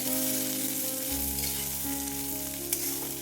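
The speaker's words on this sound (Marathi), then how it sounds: "हा कांदा तेलामध्ये छान भाजून घ्यायचा आहे" Sliced onion fries in hot oil in a kadhai, giving a steady, close, continuous sizzle with light stirring scrapes and no talking.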